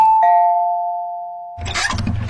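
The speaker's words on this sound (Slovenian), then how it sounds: "pa bom kar pozvonil" A two-tone doorbell chime rings once and slowly fades, then a car engine starts rumbling nearby.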